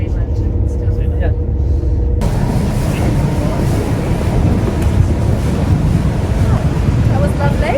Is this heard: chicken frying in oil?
no